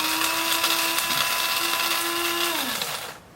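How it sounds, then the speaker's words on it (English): A coffee grinder whirs loudly as it grinds collected wood dust into fine powder, a steady high motor whine that holds close and strong, then winds down and stops at the end. "What I'm doing is taking some of what my fancy dust collector has collected and putting it into this coffee grinder."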